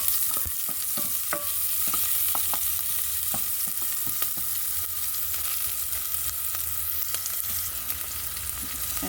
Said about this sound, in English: put the onion. Let it simmer for a few minutes.